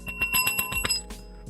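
A hand bell struck by a podcast host, giving a burst of bright metallic rings with a sharp attack followed by a shimmering decay, loud and close with no talking over it.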